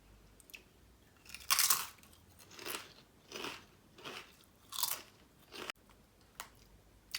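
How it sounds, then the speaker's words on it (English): Crunchy fish-flavoured crisps bitten and chewed close up, about half a dozen loud, crackly crunches spaced a second or so apart over a quiet background. "Let's taste this particularly fishy crisp."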